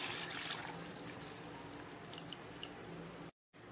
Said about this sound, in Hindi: अभी सारा पानी इसमें डाल देंगे।